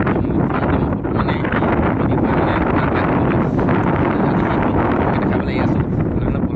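Steady wind gusting across the microphone beside a pond near a house in Assam, a continuous loud low rumble that fills the whole stretch with no pauses.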